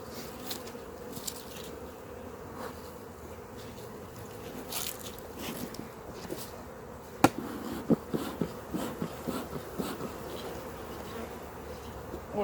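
A swarm of honey bees hums steadily and densely around a beekeeper's hives, with a few sharp clicks and knocks near the end.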